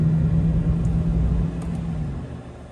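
A 2004 Chevrolet Silverado 1500 with a 4L60E automatic transmission shifts into second gear, a steady low engine rumble heard from inside the cab that drops slightly after the shift.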